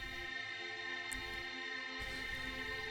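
A soloed synth pad from Synapse Audio Dune 3 drones as a dense, sustained chord of layered tones, steady and fairly quiet with a soft shimmering texture and no voices.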